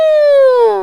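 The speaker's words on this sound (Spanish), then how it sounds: "Elefantes que barritan." A single loud trumpeting blast of an elephant, sliding slightly downward in pitch, bright and brassy, heard close and alone.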